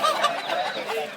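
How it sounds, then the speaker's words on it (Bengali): A large rooster at a Sunday poultry market in Sonargaon calls in a brief, close, fairly loud burst of fowl sound lasting about a second. "এই যে দেখুন বিশাল বড় একটি মোরগ"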